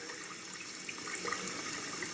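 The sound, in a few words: leaking toilet fill valve, water running into tank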